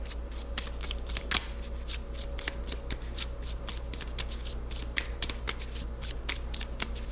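Rapid riffle shuffling of a deck of game cards, close and crisp, with repeated quick bursts of flicking cards over a quiet low hum.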